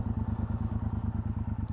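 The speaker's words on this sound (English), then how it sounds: "This is the stock exhaust through my drift camera." A 2018 Triumph Bobber 1200 on its stock exhaust idles close by, a low, even, rapid thumping pulse that stays steady and moderately quiet throughout, with no talk.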